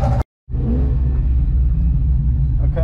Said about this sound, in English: So Simmo's now firing up his Monster.